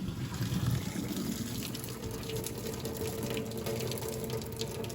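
Hot water from a pot of boiled sweet potatoes pours out past the lid into a sink, a steady splashing gush that carries on evenly throughout, close and moderately quiet.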